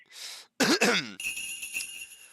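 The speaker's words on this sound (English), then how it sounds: "That was a cough." A single sharp cough bursts out close by, followed by a brief rough throaty sound over a faint steady background hum.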